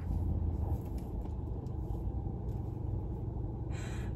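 Steady low road rumble inside a moving car, a dense continuous drone with faint rattles and a brief brighter hiss near the end, no voices.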